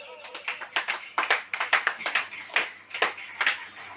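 A church congregation claps hands during a Hindi-language sermon, a run of sharp, fairly rhythmic claps at moderate distance with a voice speaking over them.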